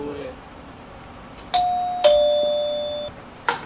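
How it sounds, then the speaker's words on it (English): A quirky cabin doorbell rings as a few clear electronic chime notes: two close tones, one held for about a second, then a brief third strike, loud and near in a quiet room. "Look at this doorbell."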